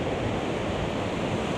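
Strong wind and crashing surf on the Oregon coast, a dense, steady roar of waves with wind buffeting the microphone throughout, loud and continuous with no break.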